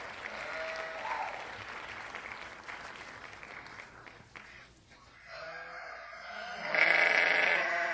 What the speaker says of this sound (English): What did the sheep say?